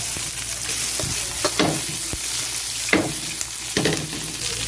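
Steady sizzling of white onion and bell pepper frying in a hot pan, with occasional scraping stirs of a utensil against the pan.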